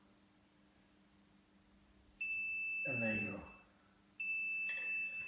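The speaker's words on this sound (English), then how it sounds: "So let's have a test of this alarm." A basement sump pump alarm being tested gives two bursts of steady, piercing electronic beeping, one long and one shorter, while someone talks close by.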